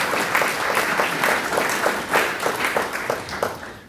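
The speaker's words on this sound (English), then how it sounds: "please give them a round of applause" Graduation ceremony audience applauding, a dense, loud burst of many hands clapping nearby, steady and continuous with individual claps pulsing through the wash.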